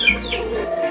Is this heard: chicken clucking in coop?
yes